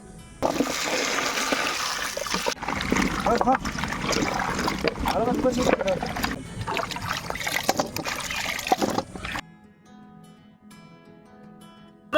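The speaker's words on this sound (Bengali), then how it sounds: "সবজিগুলো ধুয়ে নেব, কুমড়োগুলো।" Pumpkin pieces are washed under running water, a loud close gush and splash of tap water with handling noises for most of the stretch, then stopping abruptly and leaving a quiet tail.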